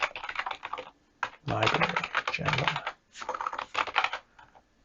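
Someone types a terminal command on a Mac computer keyboard in bursts of close, crisp key clicks, with short pauses between bursts and speech partly over the typing.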